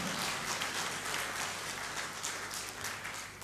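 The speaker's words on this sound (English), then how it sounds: "Give them a round of applause." Audience applause for a swing band taking the stage: a steady wash of many hands clapping at moderate distance, fairly soft and even throughout with no voices.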